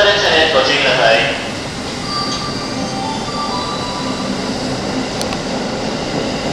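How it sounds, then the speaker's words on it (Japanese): Keikyu 2100 series eight-car Wing train passes the down platform 1 at Yokohama station, a loud rushing roar that eases into a lower rumble with squealing wheel tones, under a platform announcement. "1番線ウィング号の通過です。 ご注意ください。 1番線は通過列車です。"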